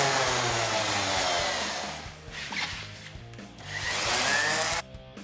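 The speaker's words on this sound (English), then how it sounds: "We're gonna have to go ahead, sand it all down, make it smooth, and get some fresh paint on there." A power sander works over the bumper of a 2005 Mini Cooper S, a loud continuous whirring that dips briefly in the middle, swells again, then cuts off near the end.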